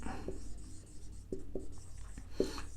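A pen scratches on paper while writing out a definition by hand, faint soft strokes with a few sharper taps and scrapes, close and quiet against a low background hum.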